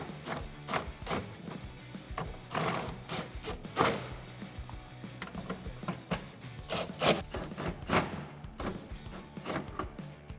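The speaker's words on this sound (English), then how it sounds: "we can tighten all of those bolts and nuts down with a 10mm socket" Ratcheting metal clicks and scrapes from a 10mm socket tightening clamp bolts and nuts on a Pace Edwards SwitchBlade metal retractable bed cover tucked against the side of a Tacoma truck bed, in irregular close bursts with no talking.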